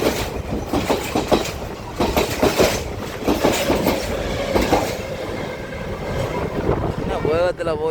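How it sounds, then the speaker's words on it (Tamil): A fast train rushes past very close at a railway station near Jaffna, a loud continuous roar of wheels and carriages with clattering rhythm, ending in a brief squeal. "மிகவும் அருகால வேகமாக ஒரு ரெயின் வந்து எங்களை கடந்து வந்துருக்குது பாருங்க"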